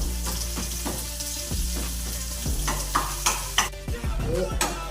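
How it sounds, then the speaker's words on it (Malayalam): Mustard seeds, sliced shallots and curry leaves frying in ghee, a loud close sizzle with repeated spatula stirring scrapes and knocks against the pan, no voices. "നെയ്ക്കകത്തോട്ട് കടുക് ഇട്ട് കൊടുക്കാം ചെറിയ ചുവന്നുള്ളി കട്ട് ചെയ്ത് കൊടുക്കാം കറിവേപ്പിലി ഇട്ട് കൊടുക്കാം ഇതെല്ലാം കൂടെ ഒന്ന് മൂപ്പിച്ചെടുക്കാം"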